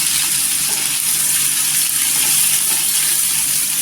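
Onion and tomato sautéing in oil in a pan for a papaya bhaji, a loud, continuous, dense hiss holding steady and close, with no talking.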